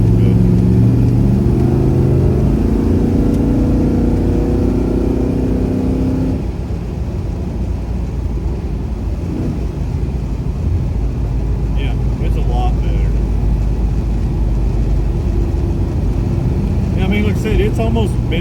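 Pontiac GTO engine rumbling while driving, a loud low drone with a heavier revving stretch early on before settling into a steady cruise, with faint higher whirs near the end.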